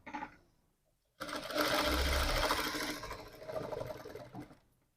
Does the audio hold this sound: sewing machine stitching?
yes